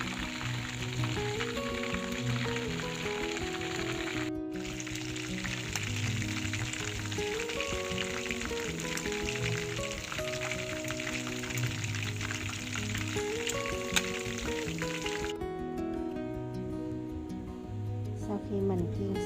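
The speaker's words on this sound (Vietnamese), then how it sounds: "Mình chiên cánh gà" Chicken wings sizzle steadily in hot oil while being fried for a fish-sauce chicken dish. The constant crackling hiss runs throughout beneath louder background music.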